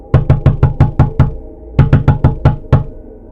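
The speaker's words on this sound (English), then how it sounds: "They came back to the sliding glass door to knock and started trying to open the door." Knocking on a sliding glass door: two sharp bursts of rapid raps, about seven quick knocks, a brief pause, then six more, loud and close with nothing else heard.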